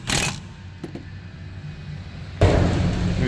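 A pneumatic impact gun bursts on a rear brake caliper bolt of a 2018-or-newer Chevy Equinox or GMC Terrain, a short sharp rattle at the start and a longer loud burst near the end, with a quiet gap between.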